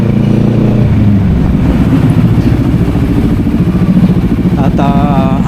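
Big bike motorcycle engine running steadily in Cavite, a continuous low rumble that rises and falls slightly with riding speed, loud and close, with a brief higher-pitched tonal sound near the end.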